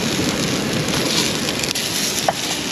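Rain falls steadily on a beach campsite at Ravenna, Italy, as a close, even hiss of patter with occasional faint drop ticks and no voices.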